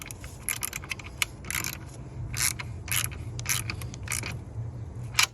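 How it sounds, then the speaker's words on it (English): Ratcheting clicks from a wrench tightening a bolt down on a power wire while installing ditch pod lights on mounting brackets, heard as short bursts of close mechanical clatter over a low hum, no talking. "Just tightening it down."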